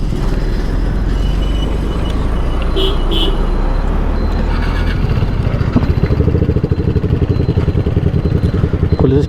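A modified motorcycle fitted with a full-system exhaust rides along the road, its loud, steady engine drone building to a harder, pulsing rev toward the end, with traffic noise around it.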